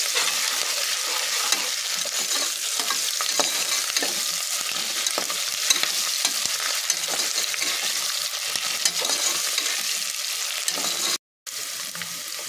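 Ginger-garlic paste frying for mutton biryani, a loud continuous sizzle with faint spoon stirring and clinks throughout, cut by a brief silent gap near the end before the sizzling resumes.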